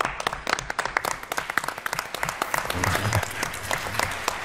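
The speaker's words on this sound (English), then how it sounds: "So you already get an applause" A conference audience at a cardiology meeting in Paris applauds loudly and close by, with dense overlapping claps that run steadily throughout and no talk on top.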